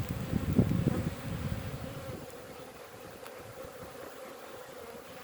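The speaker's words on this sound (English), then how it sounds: "They are flying, the bees, but not a lot" Honey bees buzz around a hive on a windy day, a soft steady hum that is a little stronger at first and then eases back, mixed with faint wind noise.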